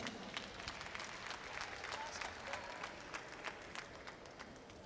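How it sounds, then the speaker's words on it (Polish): Spectators at the Polish senior squash championships applaud after a close game, a fairly faint but continuous patter of claps with a few sharper individual hits standing out. "Wielkie brawa"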